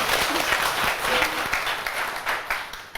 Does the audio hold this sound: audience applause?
yes